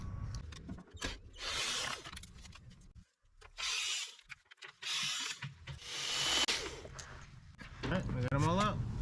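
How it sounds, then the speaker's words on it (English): A ratchet works loose 7mm bolts under a 2022–2023 GMC Canyon AT4, several bursts of rapid clicking separated by pauses, with someone talking in between. "I'm gonna say loosen all the 7mm bolts from the bottom"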